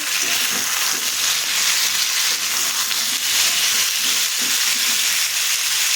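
Cut pumpkin pieces frying with sautéed onion in a pan, giving a loud, dense and continuous sizzle with faint stirring beneath, no talking.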